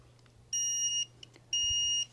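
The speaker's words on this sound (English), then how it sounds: "the device makes several beeps and long beeps" Electric pruning shears switched on emit two long, identical high-pitched electronic beeps about a second apart, clear and close in a quiet room with a faint hum beneath.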